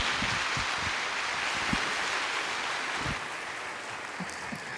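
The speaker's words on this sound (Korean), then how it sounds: "박수 한번 더 하도록 하겠습니다" A congregation applauds during a Sunday worship service at Gyeongsan Jungang Church, dense soft clapping spread evenly throughout at a moderate distance.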